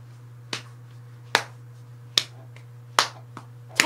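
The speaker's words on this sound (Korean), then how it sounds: "박수를 쳐주시는 거예요." Sharp, close hand claps keep a loose rhythm, five strong hits plus a couple of softer ones, over a steady low electrical hum and no talking.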